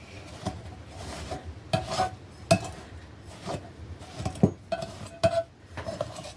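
A spoon scrapes and clinks against a bowl as wheat berry scone dough is mixed, giving irregular soft rubbing strokes broken by sharp little knocks, close by and without talk.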